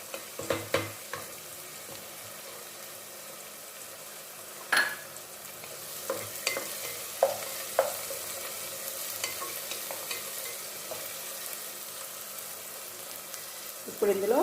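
Tomatoes for a chicken curry fry in a pan with a steady sizzle, while a spatula scrapes and taps close by at scattered moments.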